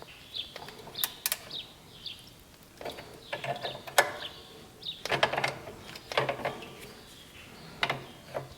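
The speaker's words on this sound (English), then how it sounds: "On the brake, I'm just gonna tighten up this." Brake adjuster on an Allis Chalmers motor grader being tightened with a wrench, giving intermittent metallic ratcheting clicks and scrapes in short bursts, close up and without talk.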